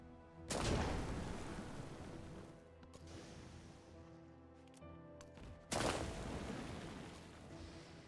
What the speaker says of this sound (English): My new anti-tank gun is not doing very much against the tank.